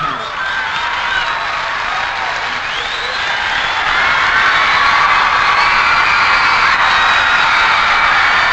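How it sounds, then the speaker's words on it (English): A huge stadium crowd at a 1977 rock concert in Oakland claps and cheers, a loud, continuous roar of hands and voices that swells and holds steady. "Clap in your hands. You've got to clap."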